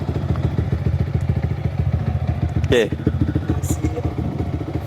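A motorcycle engine runs steadily and loudly nearby during a riding lesson, a continuous low rumble with a brief rattle partway through, while people talk briefly over it.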